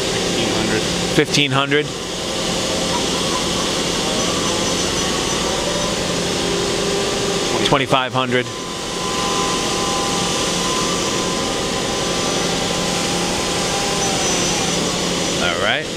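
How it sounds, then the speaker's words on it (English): A Mori Seiki multi-axis CNC turning and milling center runs its sub-spindle with a loud, steady machine whine and hum, broken twice by brief speed changes, while someone talks over it. "We're running the sub-spindle first."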